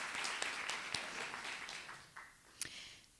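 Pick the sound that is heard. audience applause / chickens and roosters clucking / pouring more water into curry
audience applause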